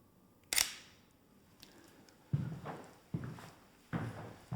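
A camera shutter fires once sharply while shooting a portrait, followed by a few softer, duller knocks and handling sounds in a quiet room.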